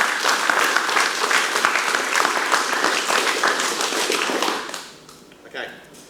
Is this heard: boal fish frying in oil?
no